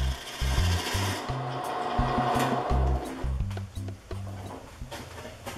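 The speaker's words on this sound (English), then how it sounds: "the rounder the piece of wood got, the better the lathe held together" A small wood lathe turns a piece of wood on its first use, giving a steady rough scraping and rasping of a tool against the spinning wood with rhythmic knocking underneath, fairly close and continuous with no talk.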